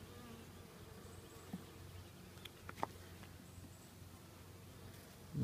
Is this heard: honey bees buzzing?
yes